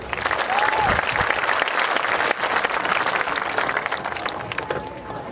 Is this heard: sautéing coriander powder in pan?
no